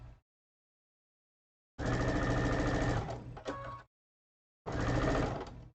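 A sewing machine stitching over thick fabric seams runs in two loud, close bursts of rapid steady whirring separated by silence, the first slowing briefly before stopping.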